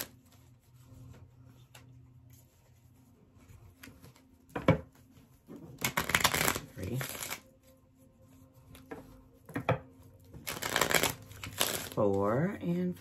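Tarot cards being shuffled in several short riffled bursts, crisp and close, with quiet pauses between shuffles.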